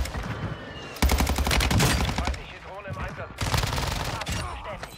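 Rapid automatic gunfire from the Fennek weapon in a video game on the Vondel map, dense bursts of sharp repeated shots in two long strings with brief gaps, loud and close, with faint talk underneath.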